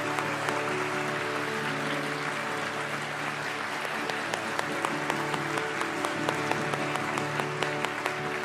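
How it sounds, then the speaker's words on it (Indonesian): Applause from a church congregation during a worship service, a steady dense patter of many hands clapping for several seconds with no talk over it. "Kita berikan tepuk tangan untuk semua keluarga Saat Teduh bersama"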